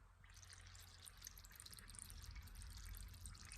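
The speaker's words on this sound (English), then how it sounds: "I'm just going to dump a bit of water in here and look for any bubbles" Water being poured into the intake valve port of a Briggs & Stratton LO206 kart engine cylinder head, heard as a steady close trickling and splashing stream with a bright, dripping texture throughout.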